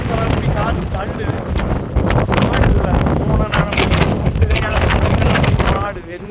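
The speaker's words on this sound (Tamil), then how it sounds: "பயங்கர காற்று அடிக்குது." Strong wind roars during rain, a loud continuous buffeting rush that blasts across the microphone for nearly the whole stretch, with a voice faintly under the noise.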